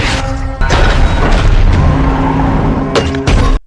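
Loud, dense gunfire-like blasts and crashing impacts fill a chaotic action-film scene from Ambulance (2022), a car escaping a police standoff after a bank robbery, with sharp breaks and a final burst near the end.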